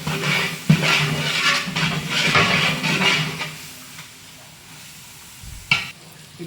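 Tomatoes being stirred and sautéed in a large pot for a wedding-style mutton biryani, a steady loud sizzle with scraping stirs that quiets toward the end, with a sharp clank near the close.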